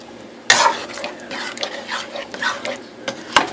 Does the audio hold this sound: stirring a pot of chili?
yes